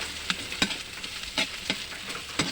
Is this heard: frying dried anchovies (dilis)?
yes